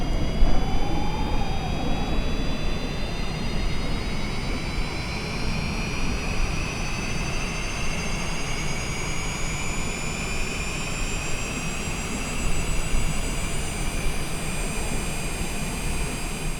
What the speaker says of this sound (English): As you can hear the APU doing its thing.